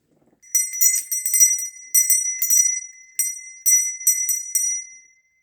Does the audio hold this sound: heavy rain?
no